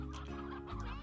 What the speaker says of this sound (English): take half of our stony hens.